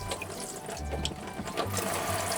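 Water runs steadily from the shower head of a camper van, a soft, even, close hiss with faint mechanical ticking underneath.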